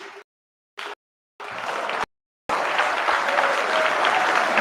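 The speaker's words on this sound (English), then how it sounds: "getting a standing applause from the legislature" State legislators give a standing ovation in a chamber after a proposal to permanently eliminate the grocery tax, their applause loud and sustained, cut off in short bursts at first and then running unbroken.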